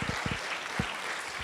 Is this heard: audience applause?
yes